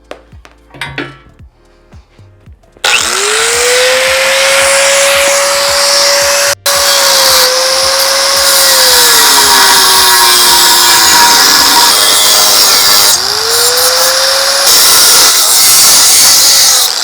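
Power tool cutting through the metal bars of a Honda V4 CBR hybrid motorcycle subframe, a loud sustained grinding whine with a pitch that rises, sags under load, then returns as a second cut begins.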